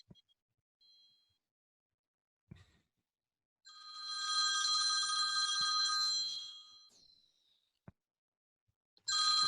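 A telephone bell rings in one sustained burst of about three seconds, loud and close, with a second ring starting at the end; otherwise quiet room with a few small knocks.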